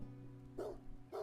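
A puppy at a cabin gives two short, moderately loud barks about half a second apart over a low steady background hum, with no one speaking.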